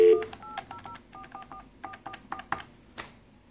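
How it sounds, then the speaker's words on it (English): Touch-tone keypad beeps from an Avaya desk phone on an IP Office system dialing out, a quick run of short, clear tones with brief gaps between them, close and isolated after an opening prompt tone. "First, let's make a phone call."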